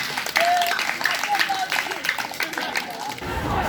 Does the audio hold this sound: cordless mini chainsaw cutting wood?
no